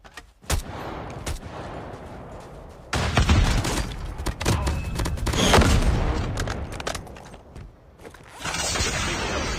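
Gunfire crackles and booms in a Call of Duty match: bursts of rapid automatic fire and heavy blasts, some near and loud, others sharper, over a constant busy background of game sound.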